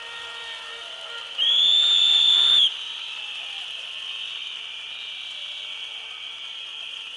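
A single loud, shrill whistle blast lasting about a second rises over a steady background hum at a protest rally on a people's stage on Ratchadamnoen Avenue.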